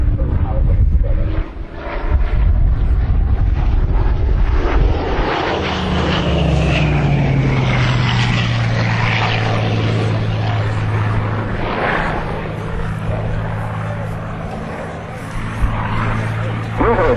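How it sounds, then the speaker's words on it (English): Two Hawker Hurricane fighters fly past at an air display at Dunsfold, their propeller engines droning loudly and shifting in pitch as they pass, with crowd and ambient noise around them. "Not one, not two, but 2 hurricanes together."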